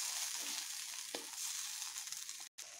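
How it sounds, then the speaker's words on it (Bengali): Spice paste for a pointed gourd dish fries in a pan with a steady, faint hiss and sizzle and one soft stirring scrape, cutting out abruptly near the end. "এগুলি দেবার পরে একটু বেশ ভালোভাবে কষিয়ে নেব"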